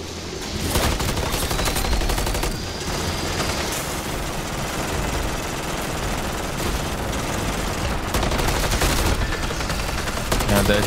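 An automated turret fires rapid, sustained bursts of gunfire in Call of Duty MWZ, dense and loud with brief gaps between volleys, accompanied by other in-game combat noise.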